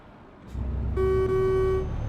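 The truck's horn in Euro Truck Simulator 2 blares in a single loud, sustained blast of nearly a second over a low engine rumble.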